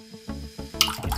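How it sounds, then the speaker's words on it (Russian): Cold water trickles weakly from a tap, a thin uneven stream with soft drips and gurgles, close and quiet, briefly splashing louder at the end. "Вот это у меня давление холодной воды. Вот такое вот слабое давление."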